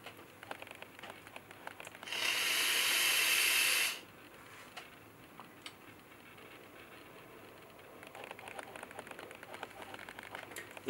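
A Smok Scar-18 mod with a TFV9 tank set to 85 watts fires once for about two seconds, giving a loud, steady airy hiss of vapour that cuts off abruptly, then faint background noise.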